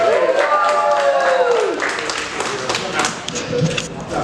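Applause from a stand-up comedy audience rises under a voice at first, then carries on as a steady wash of clapping once the talk stops.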